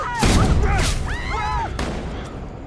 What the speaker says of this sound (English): Gunshots echo through the maze, triggering panic.